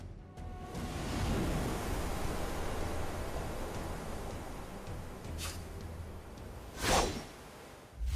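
Magical surge of lake water from a fantasy martial-arts animation, a loud sustained rushing wash of broadband noise with brief whooshing swells near the end.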